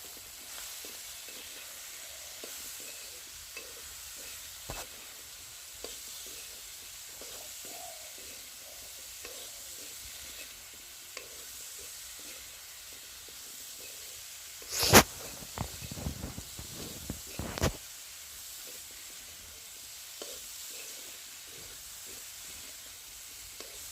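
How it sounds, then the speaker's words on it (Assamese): Leafy greens fry in a pan with a faint, steady sizzle and hiss throughout, broken by a few sharp clinks and stirring scrapes partway through. "এতিয়া অকণমান ভাজি ল'ম শাকখিনি।"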